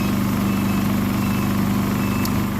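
A Champion 3400-watt dual fuel inverter generator runs steadily, its small engine giving a constant, even hum with a strong low drone and a faint rattle, loud and close for the whole stretch.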